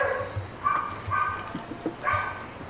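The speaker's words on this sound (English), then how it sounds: "But my dog is barking again." A dog barks several times in short, sharp bursts, moderately close and fairly loud, with gaps between barks and no talking over it.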